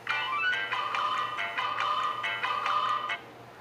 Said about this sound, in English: here we have the alarm going off